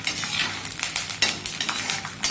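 Cornflakes mixture deep-frying in hot oil, a continuous bright crackling hiss with light clinks of a utensil against the pan.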